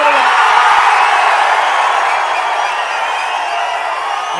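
A large crowd roars and cheers continuously at an election campaign road show in Panruti, a dense steady wall of voices and whoops that fades slightly toward the end.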